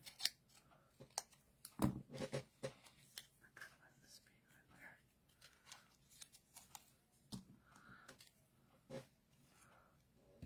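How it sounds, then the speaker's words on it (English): Scissors snip through the stem of a paper leaf in a quiet room, a few sharp close cuts and small handling clicks amid soft, faint whispered speech. "let's cut this stem off"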